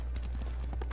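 Horse hooves clop rhythmically through the Ghost of Tsushima video game, a steady run of muffled beats over a constant low game hum, with no talk.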